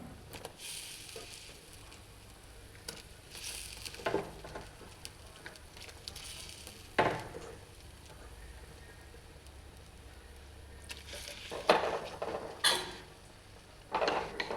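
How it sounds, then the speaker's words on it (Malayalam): A pot of fish curry bubbles and sizzles steadily, with a few sharp splashes and clatters as fish pieces are dropped in one by one. "നല്ലതായിട്ട് തിളച്ച് നമുക്ക് ഈ മീൻ ഓരോന്നായിട്ട് ഇട്ട് കൊടുക്കാമേ"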